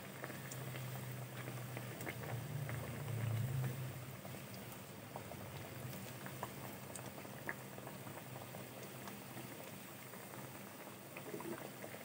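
Chana dal batter frying in hot refined oil over a high flame, a continuous bubbling fizz with fine crackling and a low hum, steady and fairly quiet throughout, no talking.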